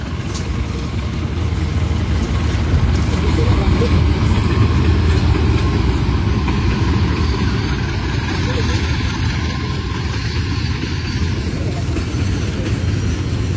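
A train hauled by a DC 03 diesel locomotive from the Bandung depot passes at a station in Indonesia, giving a steady, loud broadband rumble and rail noise that holds throughout with little change.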